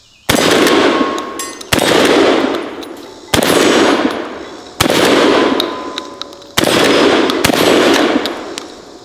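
M97 Trench Gun pump-action shotgun fired outdoors at a stop sign, five loud booming shots spaced about one and a half seconds apart, each with a long ringing decay and a pump racking between rounds.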